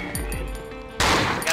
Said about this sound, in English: Get back, someone's shooting.